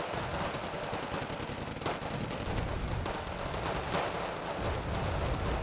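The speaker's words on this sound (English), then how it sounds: "We've got mortars firing onto them" Mortar fire and explosions from a Wargame Red Dragon battle: a steady, dense roar of shelling and gunfire with repeated thudding impacts, loud throughout and without pause.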